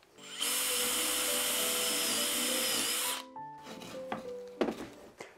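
A power drill with a 12 mm bit boring a hole in wood, a loud sustained whine running nearly three seconds from the start, followed by softer clicks and handling knocks.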